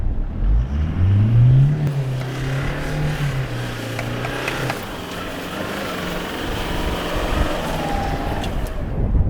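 A 2021 Toyota Hilux drives off-road on sand dunes, its engine revving up loudly and then holding a steady, close, rumbling drone as the truck pushes through the sand.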